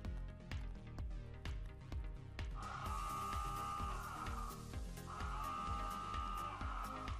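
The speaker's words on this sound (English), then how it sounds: "I have downloaded a klaxon sound" A downloaded klaxon sound effect used as a Samsung Galaxy S8 notification tone plays twice as long, bright honking blasts over a quiet rhythmic backing.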